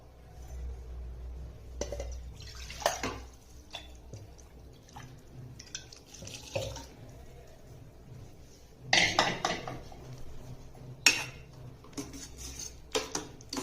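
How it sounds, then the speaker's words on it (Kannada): A cooking pot is rinsed and filled with water, with scattered splashes, drips and pours plus occasional clinks of metal, fairly close and quiet. "ಇದಕ್ಕೆ ಸ್ವಲ್ಪ ತೊಳೆದ್ಬಿಟ್ಟು ನೀರು ಹಾಕ್ತೀನಿ."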